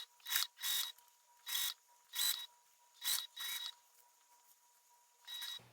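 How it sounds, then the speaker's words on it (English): A sewing machine stitches through the lining of a fabric crossbody bag in about eight short, sharp mechanical bursts with brief pauses between them, close and clear in a quiet room. "I just sewed through the lining and now I'm coming down to the exterior."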